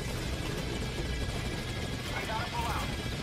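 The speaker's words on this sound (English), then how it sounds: "once that is done, you just hop into the chopper and that's it" A helicopter in the video game Metal Gear Solid V gives off a steady rotor drone and engine rumble throughout, kept in the background under continuous speech.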